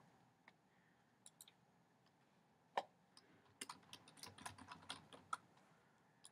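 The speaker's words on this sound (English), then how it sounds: "And I'm just going to type my name." A computer keyboard is typed on softly, a few scattered keystrokes followed by a quicker run of light clicks, faint and close with no talk.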